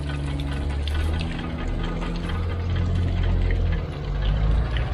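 A hand-cranked water pump column at the citadel in Saint-Tropez, with a steady rumbling mechanical grind and splashing water running continuously, fairly loud and close, no voices.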